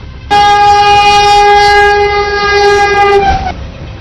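Garib Rath Express passenger train sounding a loud, sustained horn for about three seconds while its wagons roll past nearby, with rail rumble underneath.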